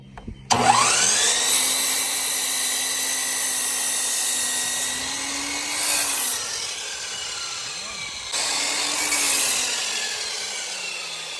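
A Harbor Freight power saw cuts treated wood boards to length, a loud steady whining motor with gritty cutting noise through two long passes separated by a brief dip.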